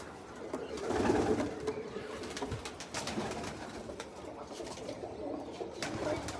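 Pigeons coo steadily, a layered murmur of several birds nearby, with a brief rustle and no talk.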